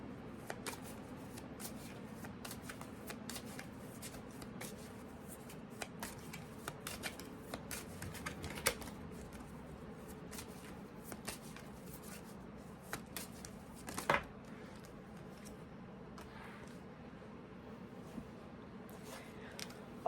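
Cards being shuffled for a tarot reading, a long run of crisp riffling and shuffling bursts with soft flicks and taps, close and fairly quiet, with no talk over it.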